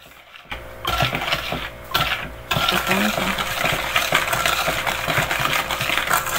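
Seven egg yolks being stirred in a bowl for a homemade cake batter, with repeated scraping and clinking of the utensil against the bowl in a steady run of taps throughout, close and moderately loud, with no talking.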